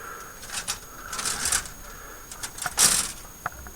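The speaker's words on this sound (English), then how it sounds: "Noisy plastic bag." Crinkly plastic bag holding model kit sprues rustles in short, uneven bursts close by, fairly quiet, with a few sharper crackles.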